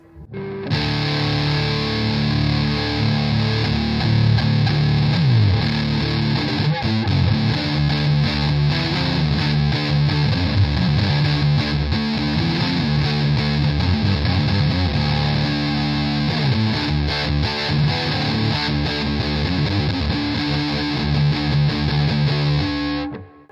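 Electric guitar through a 1987 ProCo Rat 2 distortion pedal with the filter fully open, heavily distorted, thick and compressed with sustained chords, loud and close throughout.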